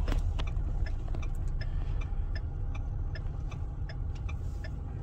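Car cabin on the move: a steady low road and engine rumble fills the space, with a faint, regular ticking like a turn indicator clicking along over it, and no clear talking.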